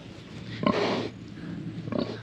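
Pigs on a farm with piglets nearby give a few close grunting oinks and snuffling sniffs in two short bursts over a low steady background hum.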